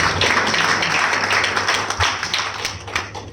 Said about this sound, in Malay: Satu tepukan kepada Portia Placenta.